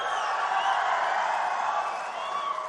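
A large crowd at a Chandrababu political rally speech cheers and roars steadily, with a sustained wash of voices and whoops that holds at a moderate level throughout.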